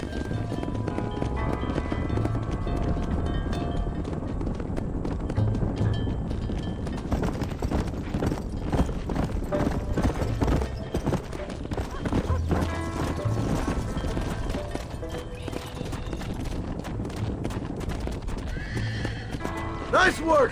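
Horse hooves clip-clop and a horse neighs in the Western video game Red Dead Redemption, with continuous galloping and whinnies over a busy game soundtrack and a voice talking.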